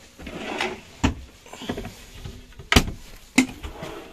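A sliding drawer inside an Eriba GT caravan, heard as a soft rolling slide followed by several sharp knocks and clunks as it runs and stops, close by and without speech.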